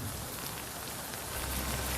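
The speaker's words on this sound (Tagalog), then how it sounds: "medyo malakas na yung pag-ulan dito" Heavy rain pours down steadily in Cagayan during a news report, a dense continuous wash of rainfall with gusting wind, loud and unbroken, no voices.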